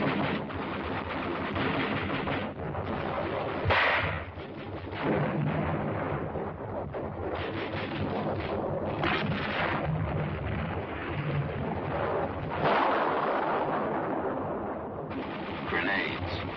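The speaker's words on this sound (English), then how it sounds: "60mm mortar. Bites like a 75 gun shell." Mortar fire from a 60mm mortar in Korea, heard as a dense, continuous barrage of heavy blasts and rolling rumble with sharper bursts scattered throughout.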